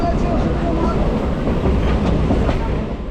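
A crowded local train runs on the Basirhat line near Beliaghata Road station, a loud steady rumble with faint rhythmic wheel clatter from inside a carriage, with voices murmuring underneath.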